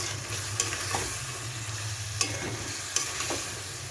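Boiled potatoes being sautéed and stirred in capsicum paste in a pan, with a steady close sizzle and a few sharp scraping clicks of the spoon against the pan, no voices.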